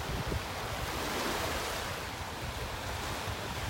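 Ocean waves washing onto a beach in North Naples, Florida, a steady broadband rush of surf mixed with wind noise on the microphone, continuous with no talking.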